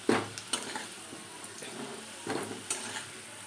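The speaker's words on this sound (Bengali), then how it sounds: "আলুগুলো আমি তুলে নেবো একটা একটা করে" Fried potatoes lifted one by one from a frying pan during home cooking, with a few soft utensil scrapes and clinks over a low, steady sizzle of oil, close and fairly quiet.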